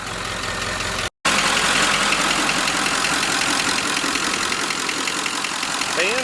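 A 1946 Ford engine runs steadily with its radiator fan blowing, a loud, dense broadband whoosh and rumble heard up close, briefly cut by a short dropout.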